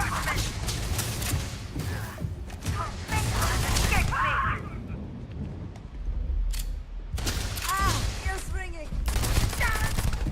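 Rapid pistol shots ring out in bursts in the video game Starfield, loud and close amid the wider din of a firefight, with a voice talking through parts of it.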